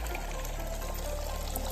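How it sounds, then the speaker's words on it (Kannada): Drinking water from a public fountain in a German city pours in a steady, soft stream, faint and continuous with no voices. "ಇಲ್ಲಿ ವಾಟರ್ ಬರ್ತಾ ಇದೆ ಅಲ್ವಾ, ಇದು ಕುಡಿಯೋ ನೀರು."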